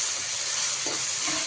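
A raw paste of green chili and coriander cooks in hot oil with a steady, fairly quiet hissing sizzle and a few faint knocks toward the end.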